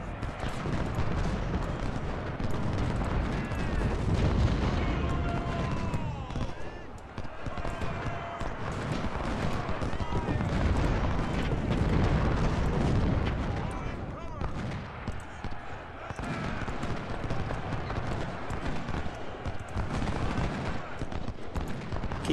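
Artillery and musket fire rumble through a Civil War battle at Antietam in Ultimate General: Civil War, a dense continuous barrage of booms and crackling volleys under steady battle noise, with someone talking over it.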